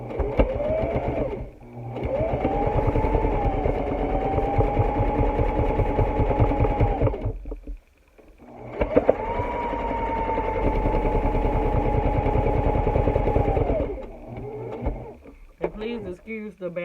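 A sewing machine stitches a fabric face mask in two long, steady whirring runs split by a brief pause, close and loud, with faint clicks near the end.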